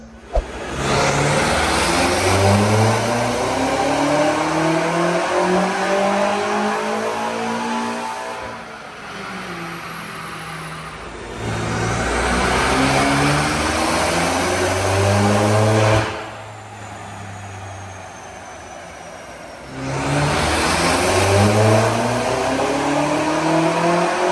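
A BMW F90 M5 on a dyno runs three long, loud, full-throttle pulls, each engine note rising through the gears before dropping off between runs.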